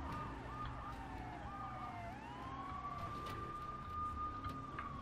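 Police car sirens wail through a chase in the video game GTA 3, rising and falling steadily over a low engine rumble, fairly quiet and alone without talk.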